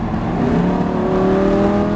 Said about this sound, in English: we're going to roll into that throttle and add some gas